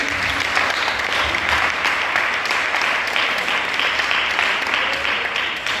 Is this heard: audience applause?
yes